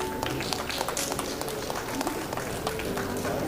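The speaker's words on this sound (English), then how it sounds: "Round of applause for Mehti, please." Steady applause from a convocation audience for a graduate, a dense continuous patter of many hands clapping in a large hall with faint crowd murmur.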